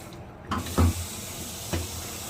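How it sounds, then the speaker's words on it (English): Water runs from an outdoor tap in a steady hiss, with a few low thumps and gurgles as the flow starts and shifts. "get all the water coming on here"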